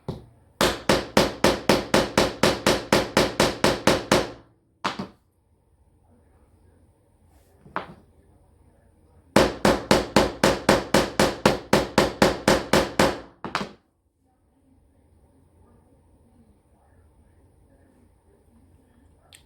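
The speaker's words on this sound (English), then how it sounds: "I want to hit right here, but I don't know if I can do that with the chasing hammer." A chasing hammer strikes wire on a steel bench block, work hardening it. Two bursts of rapid, evenly spaced metallic taps, each about four seconds long, ring out loud and close, with a few stray knocks and quiet gaps between.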